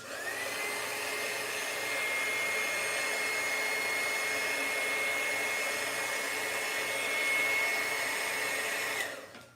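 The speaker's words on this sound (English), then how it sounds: "That is the dryer. I'm sorry about the noise" A hair dryer blows steadily on wet paint on a handmade Christmas card, a close, constant whirring hiss with a thin high whine that holds for about nine seconds before cutting off.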